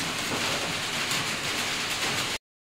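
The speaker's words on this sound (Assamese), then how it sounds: "বৰষুণ দি আছে" Rain falls outside near a window in a steady, even hiss that holds at moderate loudness and then cuts off abruptly.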